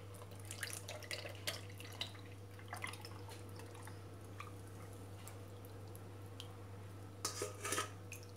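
Kue lapis batter poured into a pan for an Indonesian layered dessert, a soft liquid trickle with a few drips and light clinks over a steady low hum, no talking.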